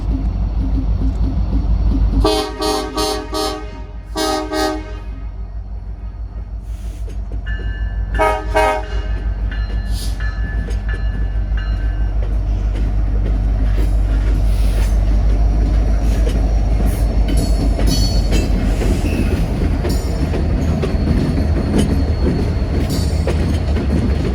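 A Kansas City Southern freight train rolls through Meridian, Mississippi, with a low continuous rumble of wheels and cars, several loud horn blasts early on, and squealing and clatter as it passes close by.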